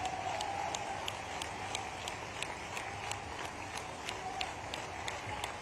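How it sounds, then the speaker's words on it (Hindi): Large outdoor crowd applauding at a college inauguration ceremony, a dense, steady wash of many hands clapping throughout, with sharper individual claps standing out. "आप जोरदार ताली बजाओ"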